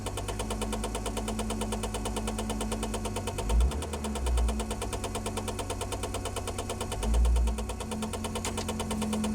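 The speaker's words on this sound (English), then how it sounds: "Blower's hitting something under the dash." A rapid, steady ticking rattle from a 1994 Saab 9000's heater blower hitting something under the dashboard repeats over a droning engine and blower hum, with a few low thumps breaking in.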